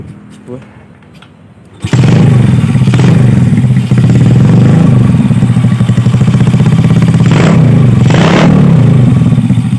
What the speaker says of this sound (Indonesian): Oh enak motor ya suaranya.